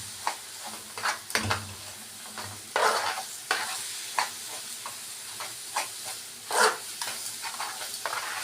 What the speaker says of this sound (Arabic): نقلب كله كده نشوح مع بعض.